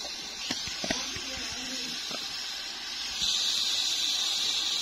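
Beef degi korma cooks in a pot, giving a steady close hiss of frying and steam that grows a little louder partway through, with a few light metallic clinks early on.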